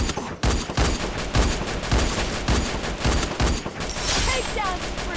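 An M249 machine gun firing in a multiplayer shooting video game, loud close bursts of rapid automatic fire in a repeating rhythm, overlapping other in-game gunfire.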